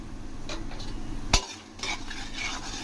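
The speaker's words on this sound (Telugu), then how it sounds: "ఈ విధంగా ఫ్రై అయ్యేటప్పుడే 1/2 స్పూన్ ఆవాలు, 1/2 స్పూన్ జీలకర్ర." Mustard seeds and cumin fry in oil in a pan, a quiet, faint sizzle with soft stirring scrapes and one sharp utensil clink against the pan.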